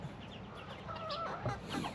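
Backyard chicks eating grass: soft, faint clucks and short chirps scattered over a steady outdoor background, with no talk.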